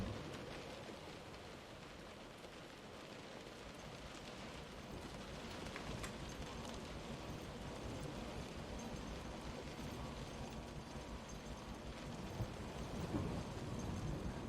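Steady rain with rolling thunder from a stormy scene in the video game Close To The Sun, a continuous wash of downpour with low rumbles building toward the end, with no talking.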